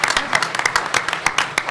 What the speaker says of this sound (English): Can I get a round of applause for those guys?